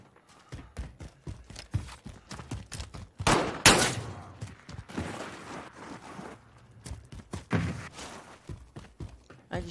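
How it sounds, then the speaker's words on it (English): Scattered bursts of gunfire in Call of Duty: Modern Warfare, some single shots and some rapid volleys, loud and close against a busy background of thuds and footsteps. "I just heard a gunshot."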